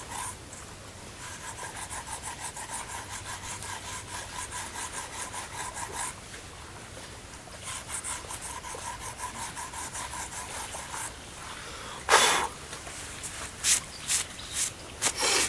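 Fine clay is scraped off a rough, primitive handmade pot, with repeated rasping strokes in a steady rhythm, close and fairly quiet, then a few sharper, louder scrapes near the end.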